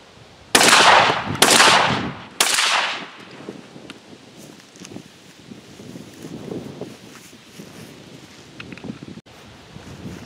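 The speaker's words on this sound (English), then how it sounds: "I'm just gonna fire off 3 rounds and show you how comfortable of a gun this is to shoot." A Weatherby SA-08 semi-automatic shotgun fires three loud outdoor shots in quick succession, each sharp blast trailing off, followed by wind and rustling.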